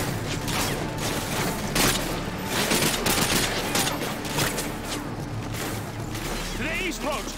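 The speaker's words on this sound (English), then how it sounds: "opening fire" Dense, continuous gunfire with bursts and booms from a Modern Warfare 2 battle, loud and chaotic throughout with shouted voices mixed in.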